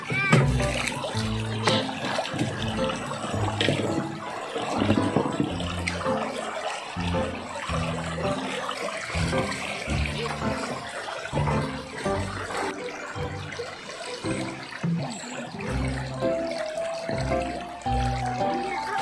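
Water splashes and pours as it is fetched at home, with irregular close splashing and sloshing throughout while children and adults talk over it.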